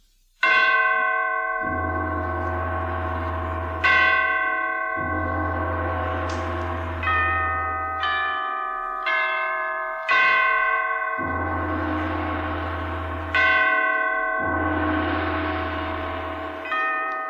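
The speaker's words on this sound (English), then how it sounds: "the great bells of St. Petersburg tolled their requiem" Great church bells of St. Petersburg toll a slow requiem, each deep, resonant stroke swelling and fading before the next, ringing alone with long humming decays.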